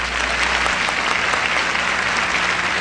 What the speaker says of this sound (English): there's a gentleman in the Air Force who wants to applaud